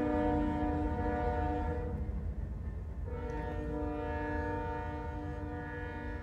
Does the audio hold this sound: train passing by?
yes